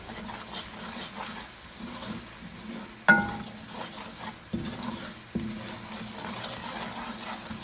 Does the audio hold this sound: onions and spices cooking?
yes